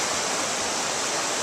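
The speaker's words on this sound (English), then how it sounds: "take this water you see coming in through this canal" Water rushes in through an irrigation canal near the North Fork of Clear Creek on a ranch, a loud, dense, unbroken roar of flowing water with no voices.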